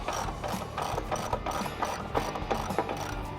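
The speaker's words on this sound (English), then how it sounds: "We're going to tighten this bolt to draw the stanchion in until the tire snugs up against the tire carrier" A ratchet tightens a bolt on the stanchion of an ACE JK Pro Series rear bumper tire carrier, rapid close clicking in quick repeated strokes with a soft mechanical rattle.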